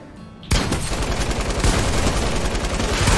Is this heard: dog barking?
no